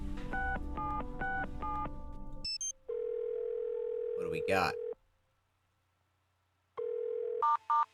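In the Nancy Drew: Secrets Can Kill game, a telephone keypad beeps through a quick run of dialing tones, then a steady dial tone hums, breaks off, and returns with more beeps; a player talks briefly over it.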